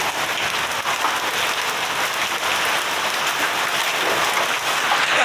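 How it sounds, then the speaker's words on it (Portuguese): Hailstones pelting surfaces during a hailstorm in Rio de Janeiro, including a table, a dense continuous loud clatter and patter with no let-up and no voices. "É muita pedra de gelo."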